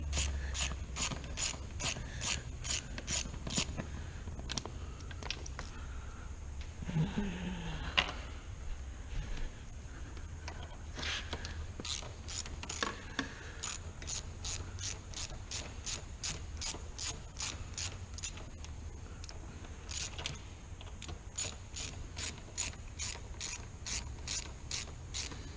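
A ratchet wrench clicks repeatedly in quick bursts, loosening an 8mm seat bolt on a Hawk 250 motorcycle, pausing between strokes, with faint metallic handling noises close by.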